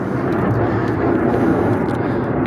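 An airplane flying overhead, a steady broadband engine roar at constant volume with no talk, heard outdoors beside a first-generation Toyota Tundra under repair.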